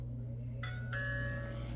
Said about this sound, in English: Now we can go and ring the doorbell